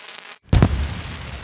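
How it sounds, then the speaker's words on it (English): A cartoon fireworks display at a Chinese New Year celebration: after a brief silence, one loud sharp burst booms out, then a crackling rumble trails off. "A lovely firework display."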